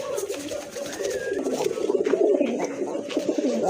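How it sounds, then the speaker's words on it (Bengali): A Giribaz pigeon coos in a throaty, rolling, repeated series close by, with faint chirps of other birds in the background. "ডাক দেখেন কবুতরের"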